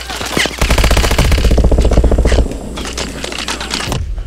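Machine gun fire in Call of Duty Advanced Warfare, a loud sustained burst of rapid rhythmic shots with game sounds around it, then quieter scraping action after the firing stops.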